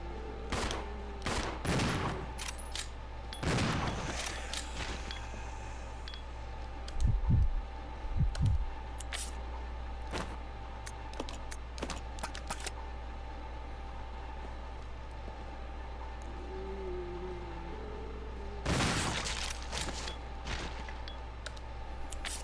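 Shotgun blasts against zombies in Resident Evil 0, a few sharp, loud bursts spread across a quiet stretch with faint clicks and low rumbles between them.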